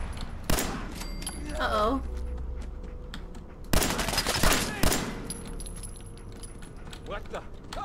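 Gunfire in Fallout 4, a few sharp, loud bursts of shots near the start and middle, separated by quieter stretches, with someone speaking in between.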